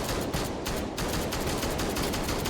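Steady, loud shotgun fire in a video game, dense blasts crowding together with no pause across the whole stretch.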